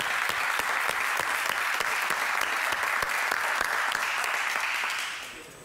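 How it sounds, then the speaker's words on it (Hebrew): A TV studio audience claps for a guest walking onto the set, with rhythmic, even clapping from many hands holding steady, then fading out near the end. "תנו לו כפיים בבקשה שהוא נכנס לאולפן"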